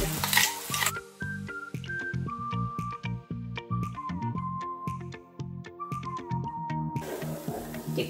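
Ground masala paste roasting in oil in a pan for a soya chunks curry, with steady close sizzling and repeated stirring scrapes and taps running throughout, and a melodic tone playing over it.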